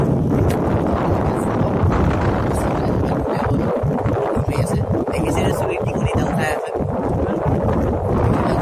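Steady wind roars across the microphone throughout, with a person talking nearby over the rushing noise.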